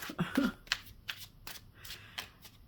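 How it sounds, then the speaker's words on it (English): Tarot cards being shuffled in quick riffling bursts, a series of soft papery flutters and snaps at close range, with no talking. "I'll just give one more shuffle"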